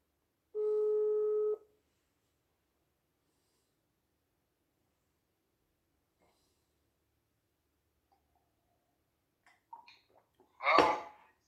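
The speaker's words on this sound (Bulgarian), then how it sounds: "Чакай пак да се сбаждам." A telephone gives a single steady tone, about a second long, while a call is being placed. Quiet follows, then faint rustling and breathy noises close to the phone near the end.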